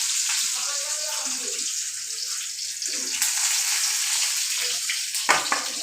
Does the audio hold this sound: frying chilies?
yes